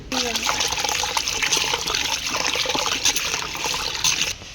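Rice is washed in water by hand in a home kitchen, with close, continuous sloshing, trickling and pouring under occasional talk.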